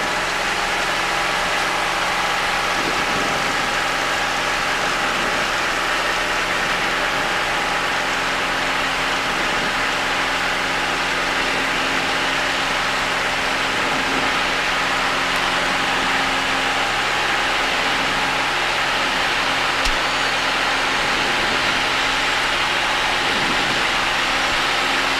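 Aircraft N315DH holding at a runway runoff area with its engine idling, a steady, loud, unbroken drone with low vibration that stays constant throughout.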